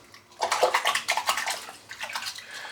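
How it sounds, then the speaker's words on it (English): Tap water runs hard in a sink to rinse shaving soap out, a loud bright splashing rush that surges, dips briefly, then continues close by. "Rinse the soap out."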